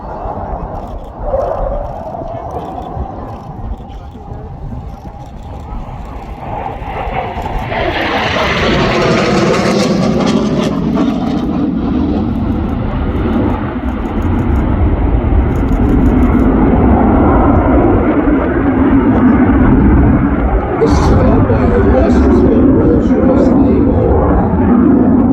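A SAAB J35 Draken jet flies a display at an air festival in afterburner, its deep roar swelling loudly as it passes and then holding a heavy, rumbling thrust while a commentator talks over it.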